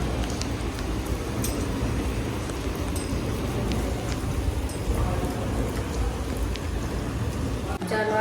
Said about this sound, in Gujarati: જો કેવો મસ્ત વરસાદ, સાઉન્ડ જ વરસાદનો મસ્ત લાગે એકદમ